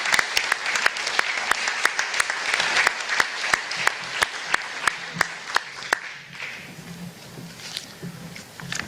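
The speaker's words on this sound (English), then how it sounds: "Give him a round of applause for what he does for this community." Audience applause at a historic awards ceremony: steady clapping in the hall for about six seconds while sharp, evenly spaced loud claps punctuate it, then the applause thins to scattered claps and faint room noise.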